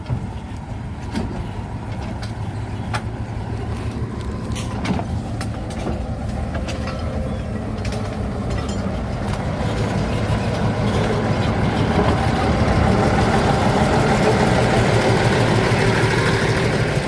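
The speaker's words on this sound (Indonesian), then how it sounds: "Kan jarang-jarang lokomotif besar lewat jalur ram." A large locomotive rumbles over portable rail track laid through sugarcane fields, its heavy engine drone steady and close throughout, slowly building in loudness toward the end.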